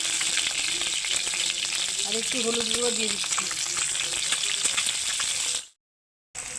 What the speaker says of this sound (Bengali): এখন কড়াইয়ে ডিমগুলো আমি দিয়ে ভেজে নিচ্ছি